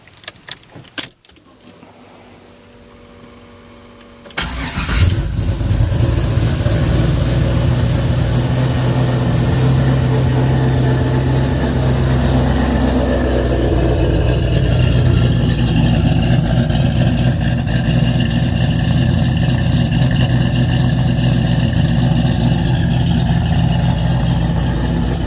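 A Monte Carlo car engine cranks, fires up, then settles into a loud, steady, rumbling idle that runs on alone after a few seconds of quiet jangling and handling noise.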